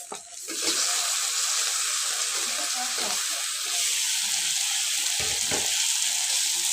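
A spice paste of onion, ginger, garlic and tomato frying in a pan gives a loud, steady close sizzle throughout, with a few soft stirring scrapes near the end.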